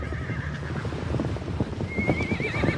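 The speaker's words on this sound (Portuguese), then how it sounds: "Imagine aqueles cavalos chegando." Horses arriving during the Spanish conquest of the Americas, with several loud whinnies, one rising shrill neigh near the end, over a steady background of hooves clip-clopping and surf.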